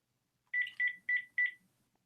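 Four short, clear dialing beeps from a wireless landline phone, evenly spaced and close, with near silence before and after.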